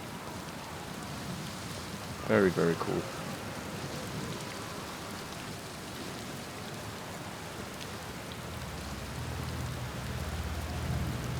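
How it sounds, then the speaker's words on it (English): Steady hissing rain of a perpetual storm on the water planet Giant's Deep in Outer Wilds, a constant wash of downpour with a deeper rumble near the end and a brief spoken comment early on. "it's just the atmosphere. It's like a perpetual storm."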